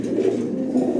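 Lahori pigeons cooing softly and continuously at close range, a low steady murmur with no talk.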